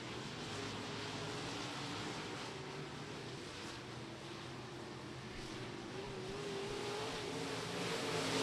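Open-wheel modified race cars running a heat race at Lake Cumberland Speedway, a broad, continuous roar of engines at a distance, swelling slightly toward the end.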